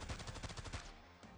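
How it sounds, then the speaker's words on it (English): Rapid automatic gunfire from a barrage in the video game Arknights rattles off in a quick, loud string of shots for under a second, then stops, leaving a low hum. "Exai, it's barrage time."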